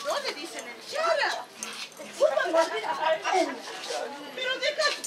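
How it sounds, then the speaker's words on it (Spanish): A dog whimpers and yips in short high cries while people chatter nearby, the dog's sounds mixed into the talk. "Pero deja un poco ese perro, ¿querés?"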